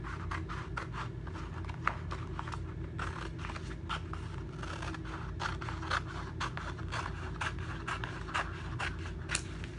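Scissors cutting apart Chalk Couture treat bag sheets for Halloween treat bags, a close, steady run of rapid snipping and scraping strokes over a low background hum, with no talking.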